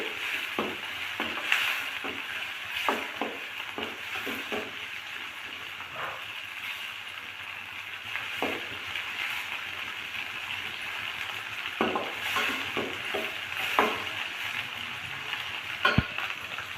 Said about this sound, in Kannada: ಈಗ ಫ್ರೈ ಆಗ್ತಾ ಇದೆ ಹಸಿಮೆಣಸಿನ್ಕಾಯಿ